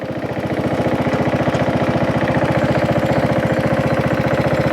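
An old Craftsman lawn tractor, abandoned for five years, runs in first gear with a steady, loud, rapidly pulsing small-engine chug that holds constant throughout.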